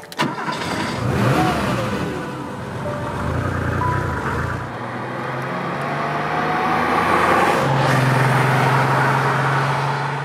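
A 1978 Porsche 911 SC engine cranks and fires up, then settles into a loud, steady idle with a second swell in revs, close by and with no talk.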